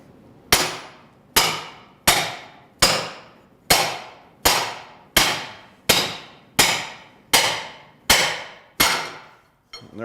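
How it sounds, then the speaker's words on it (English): Eleven sharp metallic hammer blows strike a torsion bar tool at a steady, even pace, each strike loud and close with a short decaying ring. "just take a hammer and give it a good smack"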